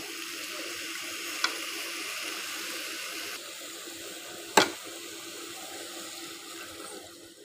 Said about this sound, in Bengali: পরিমাণ মতো পানি দিয়ে একবারে বসিয়ে দেব